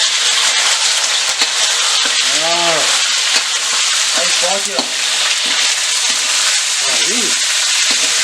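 Pork and soy frying in a heated pot, a steady loud sizzle with stirring, while a few people talk and sing briefly over the cooking.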